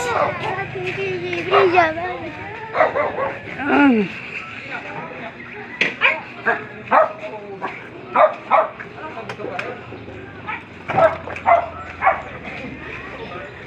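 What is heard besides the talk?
dog barking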